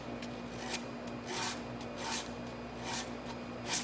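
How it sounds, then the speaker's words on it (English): Sandpaper rubbed over a handmade wooden play button, a series of short rasping strokes in an uneven rhythm, close and fairly soft, with no talking. "I grab the sandpaper and just sand it"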